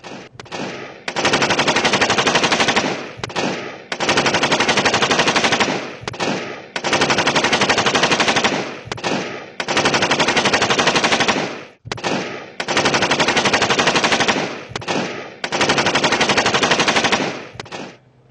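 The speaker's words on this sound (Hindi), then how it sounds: "पुलिस एहलकार सिविल कपड़ों में हवाई फायरिंग करते रहे।" Police in plain clothes fire guns into the air in Kandhkot, heard as loud, repeated long bursts of automatic gunfire separated by brief pauses.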